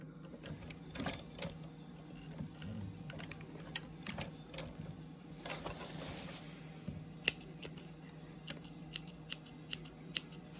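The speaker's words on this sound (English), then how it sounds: "Snip your threads." Sharp, isolated snips of scissors cutting threads after a stitch is locked, a dozen or so clicks spread irregularly over a low steady background hum, growing crisper and closer toward the end.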